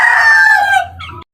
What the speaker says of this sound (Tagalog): At ayan yung aking mga sisiw.